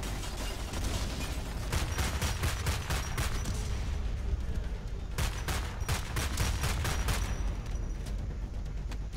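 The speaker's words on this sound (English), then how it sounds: "You could try shooting it." Sustained gunfire in the video game Homefront: The Revolution comes as dense, rapid volleys of shots that keep going almost without pause, loud and close, with no talking.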